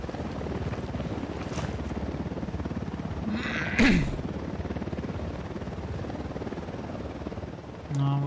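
Steady rotor thrum of an enemy Unidad helicopter in the video game Ghost Recon Wildlands, constant and fairly loud, with a brief burst of other game noise midway.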